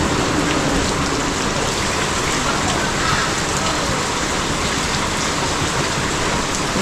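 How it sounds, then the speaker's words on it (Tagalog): Heavy rain pours down steadily as a dense, loud, unbroken roar of drops hitting surfaces, with no pauses throughout. "Lakas ng ulan."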